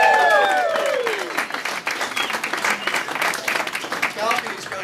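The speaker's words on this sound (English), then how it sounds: "Balcony's kind of weak in the clapping." Audience applause fills a hall at a presentation event, a dense sustained clapping crowd with cheers and whistles at the start, then thinning slightly as a voice talks over it.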